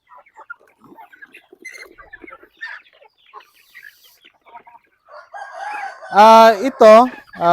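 Soft, scattered clucking and chatter from native chickens, then a rooster crows loudly and clearly twice near the end.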